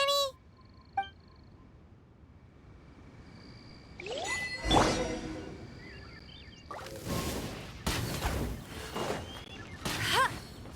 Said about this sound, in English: this is the cleansing bell.